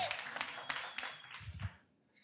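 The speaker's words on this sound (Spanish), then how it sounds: "un aplauso para Mayra también" Live audience at a comedy show clapping in brief applause, a short burst of hand claps that fades out after about two seconds.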